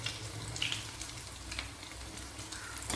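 Chicken cutlets frying in hot oil, a continuous close sizzle and crackle with faint clinks, no voices.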